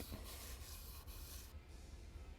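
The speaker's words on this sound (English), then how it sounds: "several hours of hand sanding." Faint, steady rasping strokes of hand sanding on a kiridashi knife blade, rubbing back and forth in a quiet, close setting.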